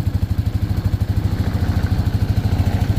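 Quad bike engine idling close by, a fast regular chugging pulse, steady and alone.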